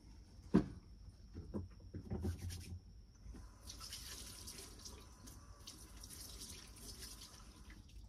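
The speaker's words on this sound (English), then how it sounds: "Probably should wash my hands after that." Hands being washed under a running tap, a soft steady stream of water splashing into a sink after a few clunks and handling noises at the start.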